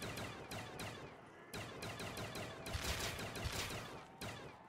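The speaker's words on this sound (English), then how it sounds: "I love the headshot sound. It's a rust headshot sound." Rapid video-game gunfire from Call of Duty Zombies on the Rust map, dense bursts of shots with short gaps, fairly close and steady in loudness, no talk over it.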